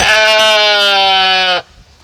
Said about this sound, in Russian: Знаете, почему овцы орут?